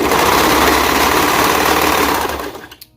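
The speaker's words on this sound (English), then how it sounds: "I like to start with the folded edge into the serger first." A serger overlocks the folded edge of fabric for a romper or dress, a loud, steady mechanical whir running close and continuous for about two and a half seconds before stopping abruptly.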